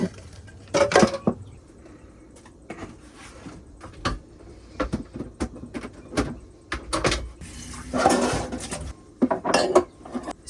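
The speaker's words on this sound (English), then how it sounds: "I like to soap all the dishes and then rinse them all at the same time" Dishes and cutlery being washed in a camper van sink, with scattered clinks and clatters of plates, pots and utensils in irregular bursts, close by and moderately loud, with no talking.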